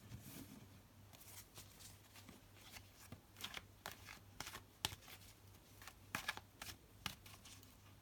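Tarot cards are shuffled by hand in a quiet room, a soft close series of riffling slaps and papery flutters in an uneven rhythm, with a faint low hum underneath.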